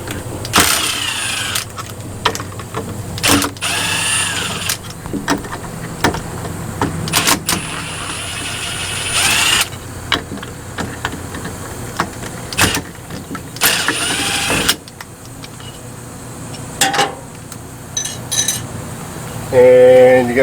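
Screws are being removed from an old RV door lock, giving intermittent metallic clicks, rattles and scraping bursts, close up, separated by quieter pauses.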